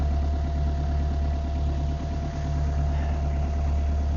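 A boat engine idles steadily at close range, its rhythmic chugging loud and constant, running alone without any talk.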